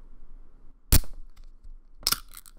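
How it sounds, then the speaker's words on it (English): A soda can is opened up close in a quiet room. There is a sharp metallic crack, then a second snap about a second later with a short fizzy hiss trailing off. "I'm going to open this soda. Do it. I want everyone to enjoy this sound."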